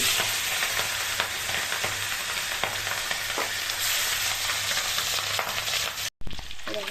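Aar fish coated in salt, turmeric, chilli powder and mustard oil sizzles in hot white oil in a kadai, a steady close frying hiss with occasional spatters and light utensil knocks, cutting out briefly near the end.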